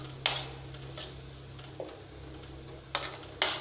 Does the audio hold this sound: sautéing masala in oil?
yes